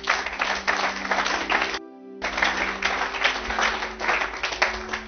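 Church congregation clapping steadily and densely, loud and close, with a short dip partway through before the applause picks up again and carries on.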